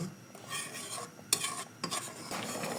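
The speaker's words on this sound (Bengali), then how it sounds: "এটা দিয়ে আপনার মাংসটা যখন হয়ে আসছে তখন দিয়ে এইভাবে নাড়তে হবে" A spoon stirs meat curry with milk and mixed nuts in a pot, scraping in bursts with sharp metal clanks against the side and a soft sizzle beneath, and no talk.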